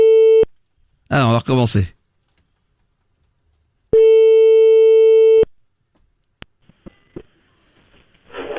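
A landline telephone busy signal sounds as long, loud steady tones separated by silence, someone briefly speaks between them, then a few clicks and a faint voice follow.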